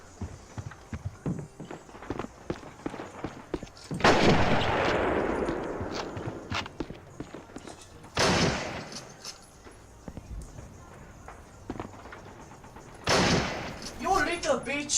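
Gunfire in a Call of Duty match rings out in several sharp bursts spaced across the clip, mixed with game sounds and players talking over them.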